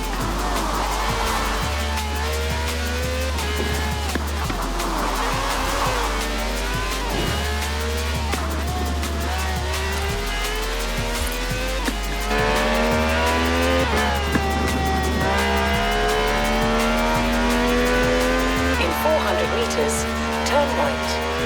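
A wide-body taxi cab on slick tyres races in Forza Horizon 4, its engine revving and shifting through gears in rising and falling sweeps, with a low steady drone beneath and a voice talking over it throughout.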